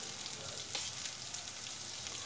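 Tomatoes sautéing in a pan for a brinjal curry, a soft, steady sizzle with light stirring scrapes, quiet and close, no speech.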